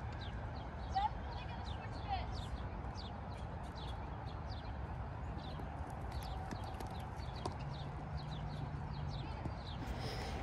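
Hoofbeats of an off-the-track Thoroughbred horse cantering under a rider outdoors, a steady rhythmic clip-clop spread through the clip against constant wind or ambient noise, with birds faintly audible.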